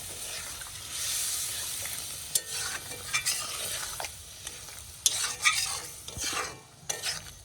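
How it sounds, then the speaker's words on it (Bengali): Hot water poured into a pan of frying squid curry brings a soft hissing sizzle, with a spoon stirring and scraping the pan in irregular clinks close by, no voices. "এটা গরম জল দিয়ে দিচ্ছি"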